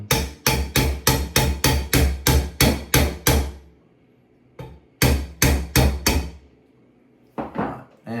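Metal hammer strikes driving a roll pin out of a Ruger American Predator G2 rifle trigger group, a fast run of about ten sharp, close taps, a pause, then another burst of five and a couple of final hits.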